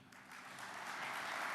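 Applause at an awards banquet for a winning aerospace supply-chain team, a crowd's clapping building from moderate to fuller and louder over a short stretch, heard from a distance.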